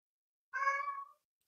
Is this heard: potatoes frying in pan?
no